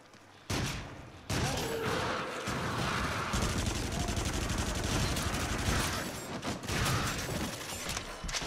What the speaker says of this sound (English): Shotguns work too, I suppose.